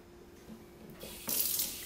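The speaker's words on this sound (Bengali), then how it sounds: "গাছে জল দিতে কিন্তু খুবই ভালো লাগে" A garden hose or tap runs water onto plants in a backyard vegetable patch in Cincinnati, a soft trickle that swells into a louder, brighter gush toward the end.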